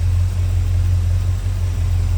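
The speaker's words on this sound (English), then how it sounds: "HEI ignition running good, sounding good" A 1984 Chevrolet Scottsdale C10 pickup with HEI ignition and a Holley 4-barrel carburetor idles steadily, a loud, close, even low rumble with no voices.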